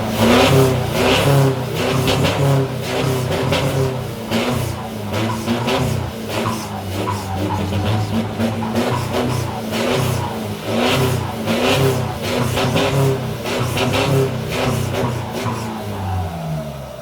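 A modified Isuzu four-door pickup engine revs loudly and repeatedly, the loud, close blips rising and falling in steady waves with no talking over them.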